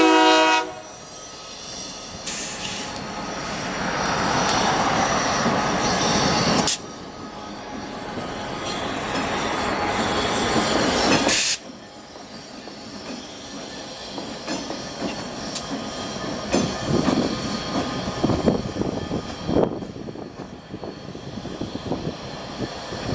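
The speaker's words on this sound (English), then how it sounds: "the train is currently switching its cement cars" Freight train switching cement cars at the Redwood City port, a sustained rumble of rolling cars with a horn-like tone, several abrupt shifts in loudness as the movement changes, fairly close and continuous with no talk.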